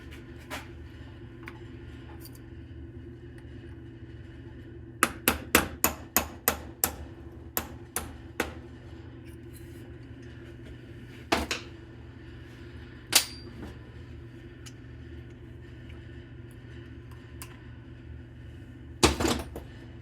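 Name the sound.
hammering out the roll pin of a GM HEI distributor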